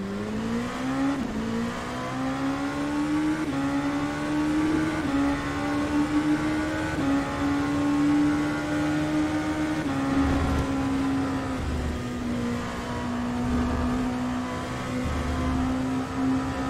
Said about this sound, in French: on va tester ce moteur Cosworth sur ce circuit de Spa